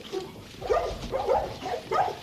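Several dogs at the royal kennels bark in a quick run of four or five muffled woofs, moderately close and loud over a steady background hum.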